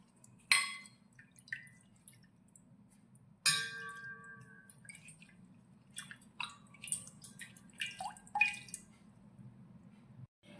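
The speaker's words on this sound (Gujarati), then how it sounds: "તુલસીના પાન જે 10 થી 12 જેટલા લીધા છે તેને પણ આપણે પાણીની અંદર સારી રીતે ધોઈ લઈશું" Tulsi (holy basil) leaves being rinsed in water, giving scattered drips, small splashes and wet squishes over a steady low background hum, close by and fairly quiet, with no talking.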